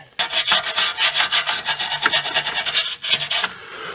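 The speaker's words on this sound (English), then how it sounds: "Wire brush and a bit of paint first, probably." A wire brush scrubs bare metal in the battery area of a Honda Civic FN2, making loud, close, rapid back-and-forth rasping strokes that run steadily for several seconds with a brief pause near the end.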